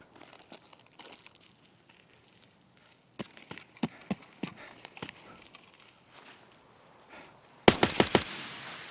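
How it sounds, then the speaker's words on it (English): Footsteps of another PMC player approaching in Escape From Tarkov, heard as a run of sharp, close crunching steps in the middle, followed by a loud burst near the end, with no talk. "while rearranging my loot in a nearby bush, we hear footsteps approaching"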